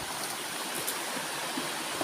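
Steady broadband rush of a small stream's flowing water, continuous and fairly even throughout with no talking.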